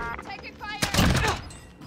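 A short, loud burst of gunfire in a video game erupts midway, preceded by a brief voice and fading quickly afterward.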